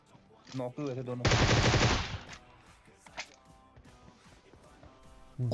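A burst of rapid automatic fire from a Groza rifle in the battle royale game PUBG near Pochinki. The loud, dense volley lasts about a second, and someone speaks briefly before it.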